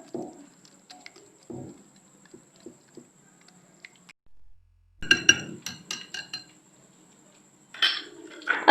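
A spoon clinks against a bowl while food colour is mixed into a chicken marinade, giving sparse, light taps and scrapes, with a louder cluster of clatter midway and near the end, separated by quiet pauses.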